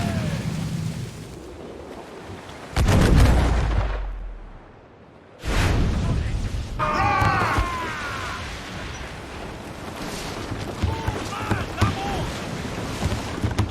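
Cannon fire and explosions in the naval combat of Assassin's Creed Black Flag, heavy booms and rumbling blasts with whooshes amid loud battle noise, crew shouts under the din.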